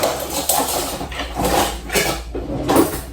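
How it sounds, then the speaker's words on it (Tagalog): Eggs being beaten in a bowl for macaroons, heard as a run of scraping, clinking strokes against the bowl, moderately close and fairly steady, with no talk. "Babatihin natin yung egg."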